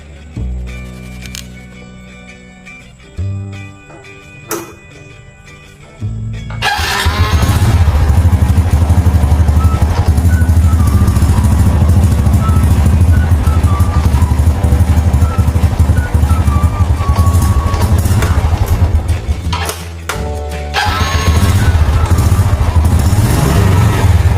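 A motorcycle engine: a few clicks and thumps, then the engine catches and runs loudly at a steady idle with a brief dip, close by and without talk.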